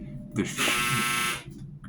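A harsh electronic buzzer blares for about a second, framed by brief bits of speech before and after.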